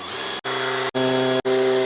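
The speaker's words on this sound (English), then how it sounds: "Drill my hole." An electric drill bores a hole for a closet rod, whining in three or four steady bursts separated by brief stops, close and loud with a strong tonal hum.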